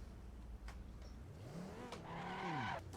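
A TVR sports car in the Assetto Corsa racing game, driven at a Goodwood Festival of Speed setting, its engine note climbing and dropping in quick revving sweeps, faint and distant, with a brief tire squeal.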